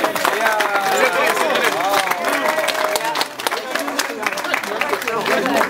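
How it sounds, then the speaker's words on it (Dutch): Crowd applause at the unveiling of a graffiti artwork, steady clapping from a gathered group with voices, cheers and chatter mixed in throughout, fairly loud and close. "Kijk, een hartelijk applaus."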